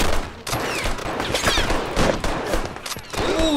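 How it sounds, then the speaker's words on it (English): Sustained rifle fusillade from enemy troops in a 1928 Nicaragua battle game with U.S. Marines against Sandinistas: dense overlapping gunshots crackle continuously at moderate distance, loud and unbroken for several seconds. "that is some effective enemy fire"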